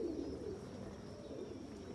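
Homer pigeons in a loft, including a young almond-colored bird, cooing low and continuously, a soft rolling murmur close by with no talk over it.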